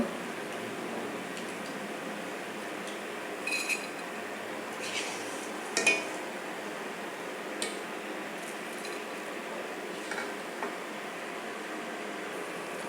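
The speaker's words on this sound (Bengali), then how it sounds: "আমার আউশ ধানের চিরা তো ওই জন্য লাল হয়েছে এভাবে আমি সেকে তুলে নেব" Red flattened rice (chira) made from aush paddy, dry-roasting in a pan: a soft, steady rustling hiss broken by a few sharp clinks and ticks of a utensil against the pan.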